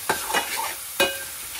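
Surmai fish masala is stirred in a pan over a light sizzle, with two distinct spoon scrapes against the metal, close by and with no voices.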